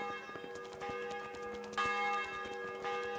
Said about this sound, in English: you can hear the bell tolling for 10 o'clock